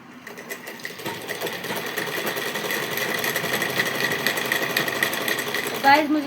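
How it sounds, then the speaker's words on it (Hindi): A sewing machine runs steadily while stitching fabric seams with a half-inch margin, a continuous close whirring buzz building in loudness, with a brief higher mechanical squeal near the end; no clear speech over it. "मैं ऐसे इसके आधा आधा इंच मार्जिन लेते हुए सिलाई कर देनी है।"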